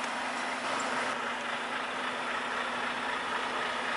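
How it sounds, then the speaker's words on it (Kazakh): Trucks idle at a truck repair center in Chicago, giving a steady, even engine hum at moderate distance that carries on without change. "мына кээ бирөө машина оталып турат, күтүп жатышат"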